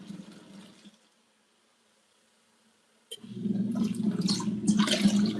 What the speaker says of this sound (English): It's splashing water everywhere now.